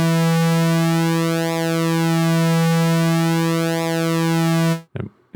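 Synthesizer tone modulated by a sawtooth-wave LFO, a loud sustained buzzy note whose harmonics sweep repeatedly up and down for nearly five seconds before cutting off abruptly into a few brief clicks.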